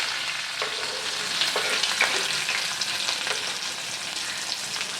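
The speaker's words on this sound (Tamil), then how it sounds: "வெங்காயம் நல்லா வதங்கட்டும்" Chopped medium-sized onions sizzle and fry in hot oil in a pan after mustard seeds have popped, a steady close broadband crackle with occasional sharper pops and stirring scrapes, no talking.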